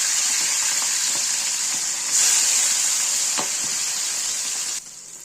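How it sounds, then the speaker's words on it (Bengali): Tangra fish sizzle steadily in hot oil in a kadai, a continuous bright frying hiss that swells briefly and then drops off near the end. "ট্যাংরা মাছগুলো আমরা এইভাবে উল্টে পাল্টে ভালো করে ভেজে তুলে নেব"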